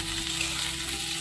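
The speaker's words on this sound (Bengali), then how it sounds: "আমি এখানে আলু গাজর যে ভাজতে দিয়েছিলাম, ঢাকনাটা খুলে দেখবো ভাজাটা হয়েছে কিনা" Potatoes and carrots sizzle steadily in a pan, an even hissing fry heard close up and uninterrupted for a brief moment.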